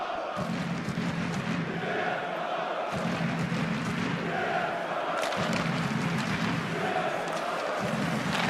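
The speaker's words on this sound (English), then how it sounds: "Not a bad crowd to cheer on the Redhawks." Large ice hockey crowd of nearly six thousand in Malmö Arena cheering the Redhawks, a steady roaring wash of voices with swelling chants and shouts throughout, loud and continuous.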